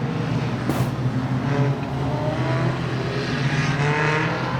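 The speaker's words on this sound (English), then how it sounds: "So our tow truck also makes its way back out on track." At Carrick Speedway a tow truck rolls back out onto the dirt track, a steady, moderately loud engine drone with a low hum and passing-vehicle noise throughout, no talk.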